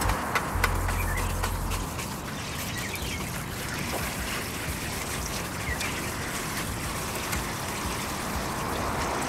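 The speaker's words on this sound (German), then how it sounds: "Wir stellen jetzt das Wasser an." Water runs steadily from a telescopic cleaning pole while cleaning a conservatory, a continuous trickling, splashing flow that stays level and near throughout, with no talking.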